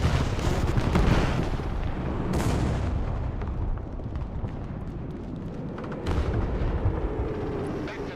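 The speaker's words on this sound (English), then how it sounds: "try to do that strafing run, see if we can hit something." Heavy gunfire and booming impacts rumble from a video game aircraft's strafing run, with dense loud bursts at the start and again near the end and sustained rumbling between them.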